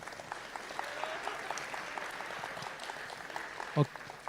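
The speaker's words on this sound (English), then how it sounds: "Big round of applause." Clapping from an audience at the FOSSASIA tech summit, a thin, fairly soft patter of hands with voices mixed in and a brief louder knock near the end.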